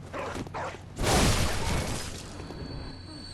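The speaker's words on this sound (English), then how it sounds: "we got another dog who's barking at a door" A dog barks at a door in the video game Bloodborne, Central Yharnam: a couple of short bark bursts early, then a loud broadband crash-like burst near the middle, fading with a lingering tone.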